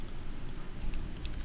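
Close computer keyboard typing while code is entered in a Windows Forms project, a soft run of light key clicks over low background rumble, with a small cluster of sharper taps near the end.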